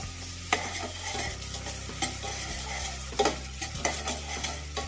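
Green chillies and turmeric frying in a pan, a soft sizzle punctuated by a few metal spatula scrapes and clinks, with a low steady hum from a nearby stove or appliance beneath.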